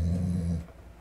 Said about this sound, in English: he sees himself, but thinks it's another dog growling back